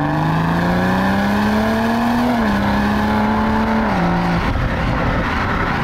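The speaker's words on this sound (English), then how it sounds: "Does actually make a reasonably nice noise when you're pressing on that classic smooth BMW 6-cylinder" A 2021 BMW G20 M340i xDrive six-cylinder engine pulls hard under acceleration, a loud, smooth, steady drone rising in pitch, with two brief dips as gears change before the note settles into a broader roar.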